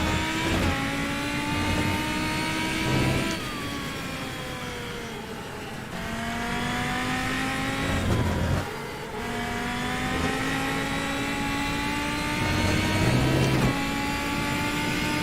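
Racing video game car engine revving steadily over about fifteen seconds, rising and falling in pitch with gear changes and brief dips, a continuous loud synthetic motor drone without speech.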